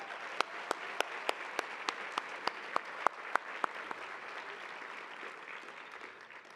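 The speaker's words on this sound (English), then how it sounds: "let all of us applaud all of our teachers" Audience at an annual dinner applauding teachers: steady, dense clapping from a crowd in a hall, with a few sharp louder claps standing out in the first half before the applause settles and fades slightly toward the end.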